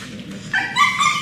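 A dog lunging on a leash, letting out a high whining bark that rises sharply and holds, loud and close.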